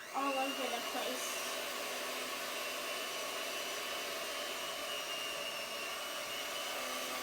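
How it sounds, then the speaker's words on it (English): Electric mixer whirring through pizza dough, a steady high motor whine close by that holds evenly for several seconds after a brief louder start. "You don't have to use this type of mixer if you don't have it."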